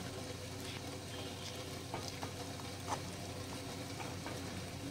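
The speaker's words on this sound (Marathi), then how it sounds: "असं व्यवस्थित गुठळ्या फोडून घ्यायच्या, जमतील तेवढ्या, पण जास्तीत जास्त फोडून घ्यायच्या." Gram flour zunka stirred in a pan, lumps broken up with soft scraping and light tapping over a faint low sizzle, quiet and steady with no talking.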